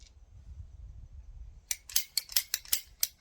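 A water line pipe is cut roughly in half under a house, heard as a quick run of about seven sharp, crisp snipping clicks up close after a quiet low rumble.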